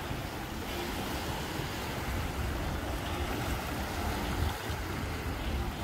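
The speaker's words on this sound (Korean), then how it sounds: "간만에 파도 소리도 좋고 물도 투명해서 진짜 좋았어요." Ocean waves wash steadily onto a beach on Jeju Island, a continuous broadband surf roar with wind, fairly soft and even throughout, with no voices.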